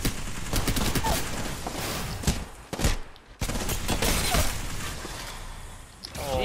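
Rapid bursts of video game gunfire, dense and loud, with shattering crackles and a short pause partway before the shooting resumes.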